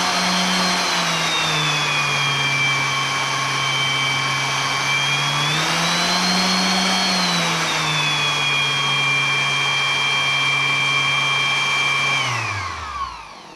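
A Dewalt DWE6423 280 watt orbital sander running steadily, a loud close whine with a stable motor hum that rises briefly in pitch midway, then winds down as it is switched off near the end.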